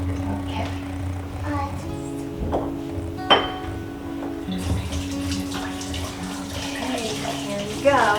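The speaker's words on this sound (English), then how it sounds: "I'm gonna wash my hands and I'll grab it." Tap water running into a kitchen sink during handwashing while baking seven layer bars, a steady wash under the clinks of dishes, with someone talking over it.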